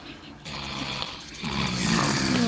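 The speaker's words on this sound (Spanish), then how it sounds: "¿Quién está roncando?" Snoring from a video played back in a preschool class, several drawn-out rasping breaths that grow louder, with faint voices underneath.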